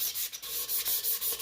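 Steady rhythmic rasp of sanding an aluminum stove canister from a 1946 Coleman 530 G.I. Pocket Stove, close and fairly quiet, with repeated back-and-forth strokes and no talking.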